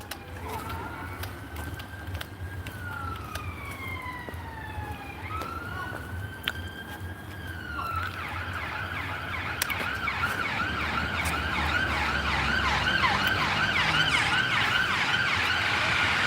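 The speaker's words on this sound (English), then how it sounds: "Sounds like an emergency ambulance." An ambulance siren wails along a seaside promenade, its rising and falling tones changing pitch as it passes and then shifting to a rapid yelp that grows louder, over steady traffic noise and outdoor hum.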